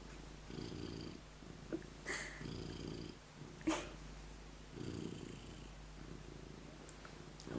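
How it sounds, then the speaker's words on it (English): A cat purrs loudly and steadily in close, rumbling cycles like a small lawnmower, with soft handling noises between breaths. "Dude, you're a lawnmower."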